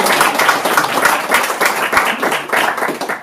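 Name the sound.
audience applause at bookshop reading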